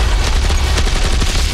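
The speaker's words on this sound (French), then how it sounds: "une fusillade dans un univers simulé" Gunfire in a film shootout set inside a simulated world around Raccoon City: a dense, loud, continuous barrage of booming shots and blasts that fills the whole moment without letup.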